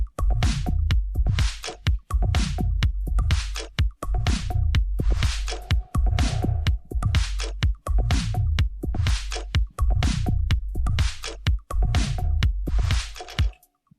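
A looping electronic music track plays back in Ableton Live, with a dense, steady rhythm of punchy drum hits and bright upper layers over a sustained low end, loud and continuous with no talk.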